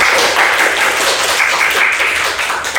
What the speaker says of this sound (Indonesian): Tepuk tangan dulu buat Kak Safira.